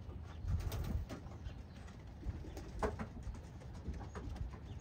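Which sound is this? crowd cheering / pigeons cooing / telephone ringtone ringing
pigeons cooing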